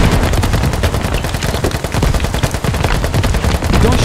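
Rapid sustained automatic gunfire in a Fallujah insurgents combat video game, a dense, loud, continuous rattle of shots throughout.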